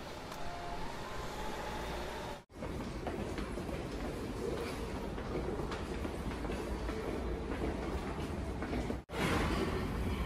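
Steady rumble and rolling clatter of a subway train riding toward Seoul in South Korea, loud and continuous with two brief dips, no talking.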